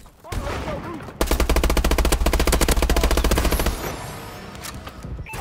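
Rapid automatic fire from an AK-12 assault rifle in a video game, a loud sustained burst of evenly spaced shots lasting a few seconds, followed by scattered quieter game sounds.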